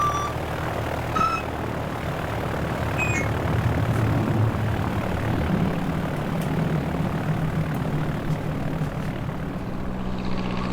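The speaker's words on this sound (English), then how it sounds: "buckle up, we are cleared for takeoff" A propeller airplane's engine drones steadily and loudly at close range during takeoff, a continuous rumbling roar holding throughout.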